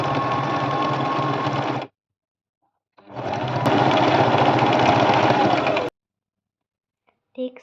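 Sewing machine stitching a fabric handle piece for a heart pouch, two steady runs of fast rhythmic mechanical whirring separated by a pause, close and alone.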